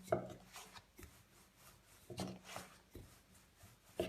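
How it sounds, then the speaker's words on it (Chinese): A rolling pin presses oil-pastry dough into a thin rectangular sheet for sweet crispy flatbread, making soft wooden rolls and rubbing strokes in an irregular rhythm, quiet and close, with small knocks between passes. "轻轻擀开，擀成一个长方形的大薄片儿"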